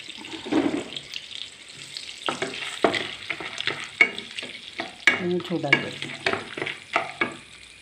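A few cashews and mostly peanuts heat in melted butter for beetroot laddu, sizzling softly while a spoon stirs and scrapes the pan in irregular bursts, close up with no voices.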